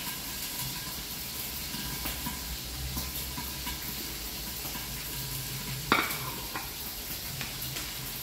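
Aromatics sautéing in a hot pan for sinigang with milkfish, a soft continuous sizzle with faint stirring scrapes and one sharper clatter partway through.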